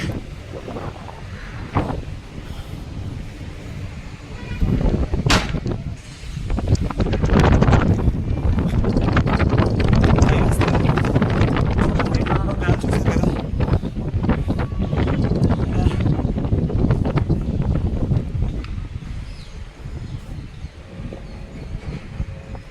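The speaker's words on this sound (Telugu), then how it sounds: "ఇక్కడ గాలి చాలా ఎక్కువగా ఉంది చాలా హైట్లో ఉండడం వల్ల" Strong wind at the top of a lighthouse at Kakinada beach, loud steady roaring and buffeting against the microphone with gusts that swell and ease throughout.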